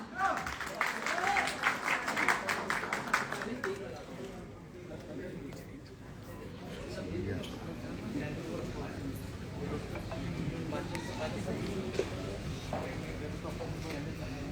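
Audience applause at a live birthday show for Khesari Lal Yadav: loud, dense clapping from a crowd fills the first few seconds, then fades into a steady murmur of crowd noise and voices.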